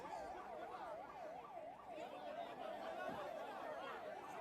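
An ambulance's wailing siren rises and falls in steady repeated sweeps, loud and close, over a noisy crowd at an election campaign rally.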